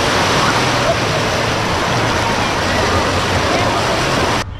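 Waves roll through the wave pool at Typhoon Lagoon, a Disney World water park, as a loud, continuous rushing wash of churning water that stops abruptly at the end.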